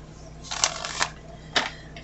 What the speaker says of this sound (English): that was such a weird shuffle.